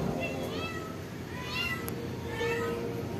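A tuxedo cat yowls and meows in several drawn-out, rising cries, fairly close and clear over a steady background hiss.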